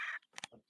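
A short frigate bird call from the Wingspan board game, a quick burst of harsh, raspy squawking notes, faint and alone.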